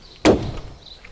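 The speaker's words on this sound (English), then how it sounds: "listen to the sound that the bonnet makes." A car bonnet is lifted open with a single sharp metallic clunk, fairly close and loud, decaying quickly into a quiet background.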